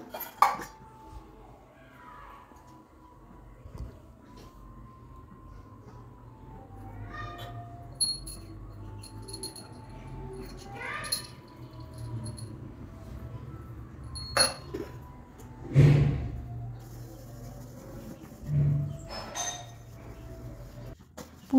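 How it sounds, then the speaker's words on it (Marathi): Copper and brass pots being scrubbed with lemon and salt clank and clink against each other and a metal sink in irregular bursts, with scraping rubs between the louder knocks. "लिंबाने आणि मिठाने किती चांगले निघतात तांब्याचे आणि पितळेचे भांडे ते."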